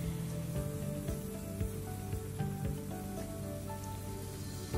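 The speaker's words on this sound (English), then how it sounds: "I'm gonna keep stir fry until it's kind of little bit more tender" Beef, mushrooms, baby corn and other vegetables stir-frying in a hot pan, giving a constant close hiss and crackle with soft music underneath.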